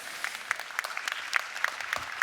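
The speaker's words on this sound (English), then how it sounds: "I hope, Vice President, you heard that applause." Brief applause from a live audience at a European panel debate in Leipzig: a close, even patter of many hands clapping for a couple of seconds, with no one speaking over it.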